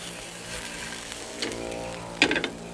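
Pieces of fish hiss and sizzle steadily in a single pan as they fry, with a few brief louder scraping or tossing moments near the end.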